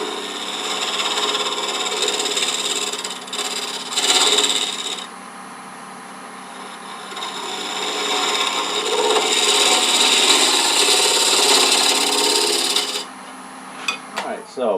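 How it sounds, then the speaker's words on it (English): Round scraper smoothing the profile of a wood burl box spinning on a lathe at about 1,000 rpm: a steady, close, broadband rasping scrape with brief pauses as the tool lifts and returns, and no talk. "this round scraper and just smooth that profile just a bit"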